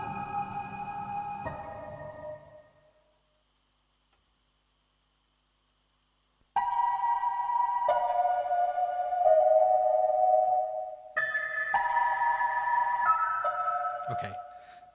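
Buzzy, distorted Eurorack modular synthesizer tones play sustained notes that shift in pitch, stopping briefly before a harsher, gritty passage returns.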